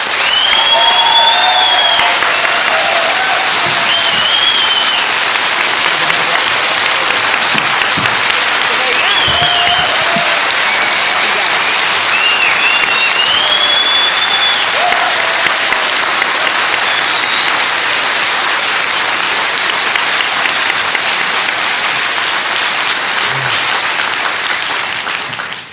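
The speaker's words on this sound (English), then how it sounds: "So in the applause now for Eamonn and all of those" Sustained audience applause at a political talk on the Bloody Sunday Inquiry, dense and steady clapping from a large crowd lasting the whole stretch, with a few faint voices and whoops mixed in.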